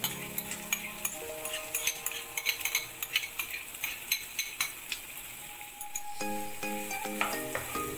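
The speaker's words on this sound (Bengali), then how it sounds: "পেঁয়াজটা হালকা গোলাপি হওয়া পর্যন্ত ভাজতে থাকছি" A large chopped onion frying in oil over tempering spices for a chicken curry, with a soft sizzle and a regular run of spoon clinks and scrapes against the pan, quiet beneath background music.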